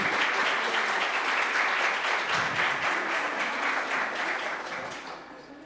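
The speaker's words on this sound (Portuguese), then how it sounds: "Vamos aplaudir mais uma vez." Audience applauding after a talk at a Portuguese-language event, a dense, even wash of clapping from a sizeable crowd that holds for several seconds before fading out.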